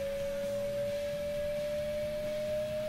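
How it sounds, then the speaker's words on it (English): A Demino car in Gran Turismo 2 gives off a high-pitched engine whine, a thin, steady pure tone that slowly rises a little in pitch over a low background rumble, with no talking. "the way this thing has such a high pitched sound though is just really distracting"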